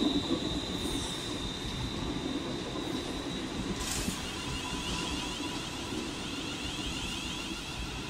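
A Class 315 electric train pulls into a station, a steady, loud rolling rumble with high wheel squeal running throughout and a brief hissing burst midway; no voices.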